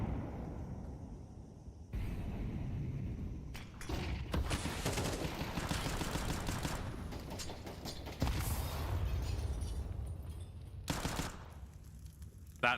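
Pistol fire in a Counter-Strike 2 match, sharp shots popping in quick irregular clusters with short pauses between volleys, loud and close over a low background rumble.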